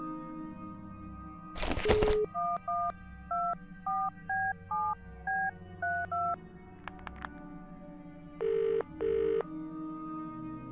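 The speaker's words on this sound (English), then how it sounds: "A man who hides a military phone in his quarters?" Military telephone in the Undercover Missions submarine game: a sharp burst, then a quick series of paired dialing tones in rhythmic succession, followed by two longer ringing tones over a low mechanical hum.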